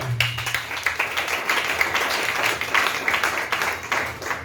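A church congregation applauds and claps for the Lord during a French-language sermon, a dense, continuous patter of many hands at moderate volume.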